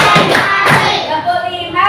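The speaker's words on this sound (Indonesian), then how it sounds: "Tepuk 1, tepuk 2, tepuk 3, tepuk 4," Children clap their hands in counted claps in a classroom, a few sharp claps close by and mixed with voices.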